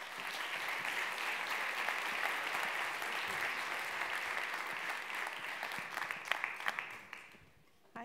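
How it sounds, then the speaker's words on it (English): A conference audience gives sustained, even applause for a speaker being introduced. The clapping stays thick and steady, then thins into a few scattered claps and fades near the end. "So let's have a big round of applause for Jen Cardello."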